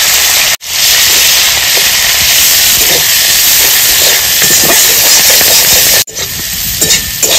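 Chopped onions, whole cumin and slit green chillies sizzle loudly in hot oil, a close, constant hissing fry with faint stirring scrapes and two brief cut-outs.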